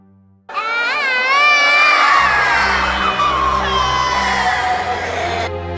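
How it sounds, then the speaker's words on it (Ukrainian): Three small children scream in terrible pain, high, wavering shrieks that overlap loudly and without pause after a brief silent start, over a low background hum. "Це кричать у предсмертній агонії від страшного болю троє маленьких дітей."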